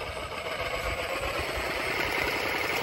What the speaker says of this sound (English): Today we're gonna use this Sawzall.